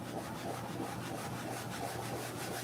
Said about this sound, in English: I can see when I use the burnishing pad that it really picks up the texture of the suitcase below.